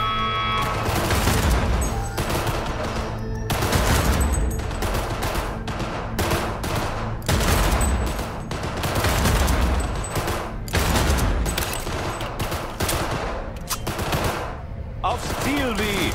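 Gunfire in Cyberpunk 2077 comes as loud, close bursts of rapid automatic shots, repeating in volleys for the whole stretch with brief gaps between them.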